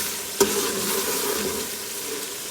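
Onion and garlic fry in a pan, giving a steady, close sizzle with a brief stirring clatter near the start and no talking.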